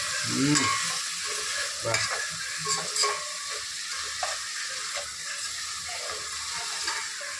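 Mint leaves for chicken biryani fry and are stirred in a pot, with a soft continuous sizzle, intermittent scraping taps of a spoon, and occasional faint clicks, fairly quiet and close.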